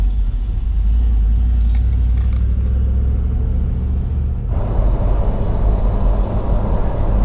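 Car driving over a new bridge in the Grafton region, a steady low road rumble and engine drone throughout, with brighter tyre and wind noise rising near the end, no talk.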